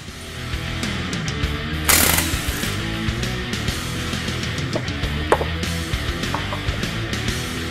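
A tool rattles steadily while removing the rear shock bolts on a 2015-2020 Mustang during a coilover install, with a rapid mechanical chatter, a sharp burst near the two-second mark and scattered clanks, close by.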